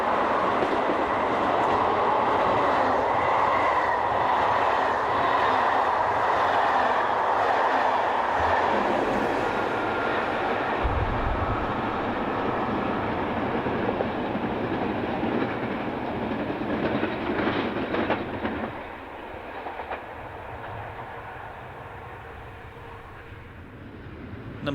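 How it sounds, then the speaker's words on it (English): An SNCF class 26 electric locomotive hauls a mixed freight train from Lyon with a second class 26 in tow, passing close by with a steady loud rumble and rhythmic wheel clatter that eases slightly toward the end. "Number 26211 hauls classmate number 26187 on this mixed freight from Lyon."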